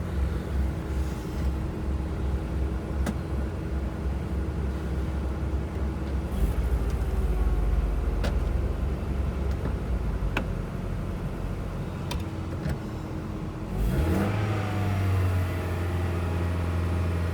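A used car at a local auction, one with a worn-out clutch, idles with a steady low engine drone, then revs up noticeably toward the end, the pitch climbing and swelling near the microphone.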